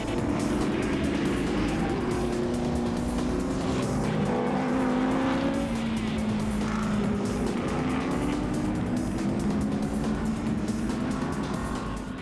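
Ford Mustang race cars roar around a track at the start of a race, one car struggling with faulty brakes, engines droning loudly and continuously with shifting pitch as they pass, with no talk.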